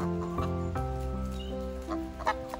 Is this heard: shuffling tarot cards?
no